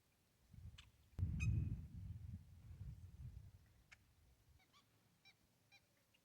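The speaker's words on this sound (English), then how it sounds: "I can hear birds." Geese honking near Mittry Lake at dusk, a loud burst of calls and flapping close by followed by scattered, fainter honks and chirps over a quiet background.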